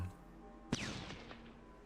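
A single sharp artillery shot in the Shadow Empire strategy game, a sudden crack followed by a brief fading rumble, moderately faint and alone.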